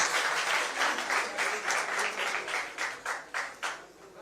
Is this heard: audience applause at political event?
yes